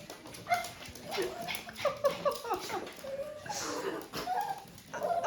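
A dog making hungry whining and yipping noises, a string of high squeaky whimpers and short yelps close by, alternating with a voice speaking softly over and between them.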